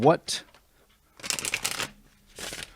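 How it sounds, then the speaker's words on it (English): Cards riffle-shuffled in two crisp, fluttering bursts close to the listener, with brief bits of a voice around them. "I'm going to shuffle these cards"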